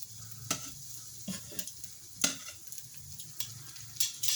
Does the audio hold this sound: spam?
yes